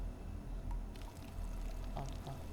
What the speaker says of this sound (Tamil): செடிக்கு தண்ணி ஊற்றணும்ல